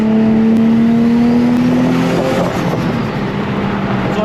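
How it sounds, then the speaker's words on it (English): Engine of a built turbo Nissan 350Z under boost, heard from inside the cabin: a loud, steady engine drone with a rising whine through the first half, then a broader rush as the boost builds. "But this one has boost noises"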